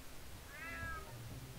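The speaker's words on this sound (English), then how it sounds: "Damn cat." A cat meows once in the UnMetal video game, a short rising-and-falling mew heard close against a low steady game background.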